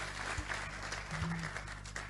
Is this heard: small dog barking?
no